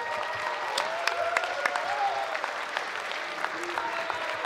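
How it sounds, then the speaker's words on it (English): Audience applause at a Mortal Kombat 1 fighting game tournament, steady moderate clapping from a crowd filling the clip, with faint voices and whistles mixed in. "Round of applause. Let's hear it."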